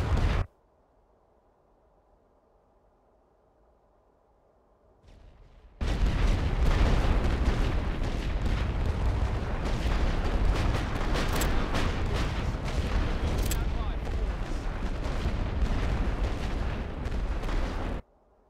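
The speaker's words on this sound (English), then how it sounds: "Load for area barrage. Fire." Massed artillery barrage in a World War I western front battle game near Lille, a sudden dense roar of continuous overlapping blasts and rumble that holds loud for about twelve seconds after a quiet lead-in.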